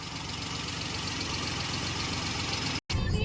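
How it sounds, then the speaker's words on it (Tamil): A 2010 Alto LXI car engine idles steadily without a break, a low continuous rumble with a faint tick, cut by a brief dropout near the end. "இன்ஜின் நாய்ஸ் பாருங்கள், அவ்வளோ தெளிவாக இருக்கும்."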